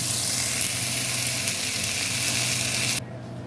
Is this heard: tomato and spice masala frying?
yes